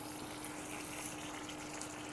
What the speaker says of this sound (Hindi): अब थोड़ा सा इसमें मैंने पानी डाल दिया है, ये थोड़ा वाटर डाल दिया है